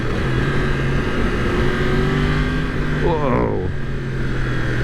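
A 2020 Yamaha MT-10 super naked motorcycle engine revs and accelerates with a steady, loud roar, rising in pitch near the end as a voice briefly exclaims over it.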